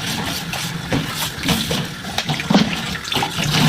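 Tap water running into a sink while dishes are washed, a continuous splashing rush with clinks and scrubbing bursts throughout, close and fairly loud.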